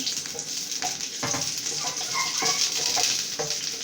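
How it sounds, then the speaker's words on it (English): Onion drops into hot oil and fries with a bright, continuous sizzle, with light stirring clicks close by and no voices. "I'm going to throw in a little of my onion into the oil."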